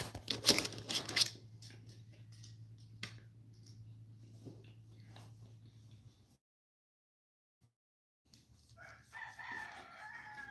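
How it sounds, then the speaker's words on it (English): A rooster crows loudly and close at the start, then a low steady hum runs under fainter sounds, a short silence falls, and more crowing or bird calls return near the end. "I really can't stand that rooster."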